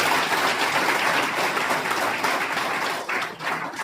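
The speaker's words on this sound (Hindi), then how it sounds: "सबसे पहले उसके सम्मान में सब लोग जोरदार ताली बजाएं।" An audience claps loudly and steadily for an honoured guest at a Brahma Kumaris stage event, a dense wash of applause running the whole time and thinning slightly near the end.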